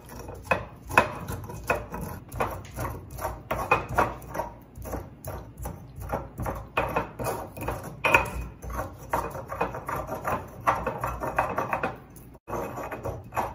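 A stone molcajete grinds with lime juice, the pestle scraping and knocking in a steady, busy rhythm of gritty strokes and hard clacks, close and fairly loud, with no talking.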